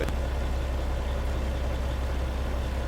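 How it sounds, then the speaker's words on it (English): A steady, low diesel rumble of an International 9200i truck engine idling close by, continuous and even throughout. "you'll hear the engine go kind of idle down a bit and then"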